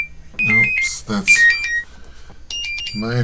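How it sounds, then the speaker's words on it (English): A phone alarm goes off, giving a bright tonal melody of repeated beeps at close range, heard under and between a man's speech. "my phone going off."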